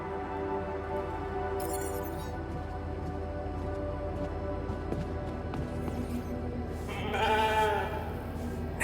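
Sheep bleat in the video game The Alters. The bleats come over a steady droning game ambience, with a louder, clearer call near the end and no talking.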